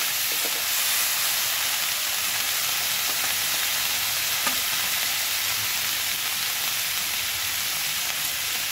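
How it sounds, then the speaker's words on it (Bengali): Shrimp heads fry in mustard oil in a wok with garlic and green chillies, giving off a loud, steady hiss and crackling sizzle with faint stirring, and no one speaks. "কড়াইয়ের মধ্যে চিংড়ি মাছের মাথাগুলোকে দিয়ে দিলাম, সরষের তেল দিয়ে ভাজছি"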